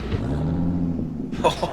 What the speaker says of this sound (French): Écoute-moi le moteur de cette Porsche.